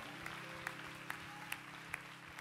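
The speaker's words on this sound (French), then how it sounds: "Est-ce qu'on peut applaudir les 24 personnes qui se sont fait baptiser aujourd'hui?" Applause from an audience in a church after a baptism service, a faint steady patter of clapping heard from a distance with a few sharper claps standing out.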